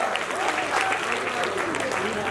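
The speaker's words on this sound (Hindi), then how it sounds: "जोरदार तालियां" Audience applause at a university film festival event, a dense, steady patter of clapping from a crowd throughout the short stretch, with a voice faintly mixed in beneath it.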